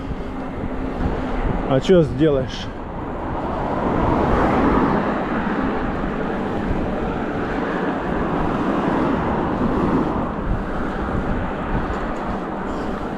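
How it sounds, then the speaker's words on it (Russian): Wind buffets the microphone on an electric bike ride through Abkhazia in November, a steady, rumbling roar that swells in the middle, while someone speaks briefly near the start. "Ветер."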